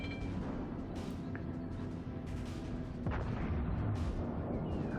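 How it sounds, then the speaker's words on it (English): Heavy naval gun salvo from a warship in World of Warships, a deep continuous rumble of booming shots rolling overhead with a louder burst near the end, no talking. "Salvo right over my head"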